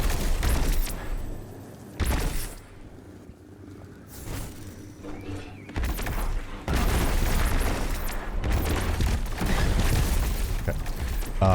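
Grenade explosions in Destiny 2 combat: a series of heavy booming blasts at irregular intervals, loud and near, mixed with game sound and a voice.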